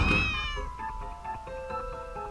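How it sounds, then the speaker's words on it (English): A cat gives a single drawn-out meow, loud and close at first, then fades under a tonal, musical background. "You weird cat. Go!"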